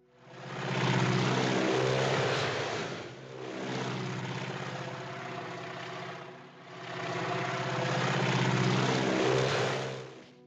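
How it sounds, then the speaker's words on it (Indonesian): A propeller airplane swooping low in an attack on a man in a remote area, a film scene: a loud droning engine that rises, dips and surges again in three close passes, with no talk. "Tapi dia malah diserang dari pesawat di daerah terpencil tersebut."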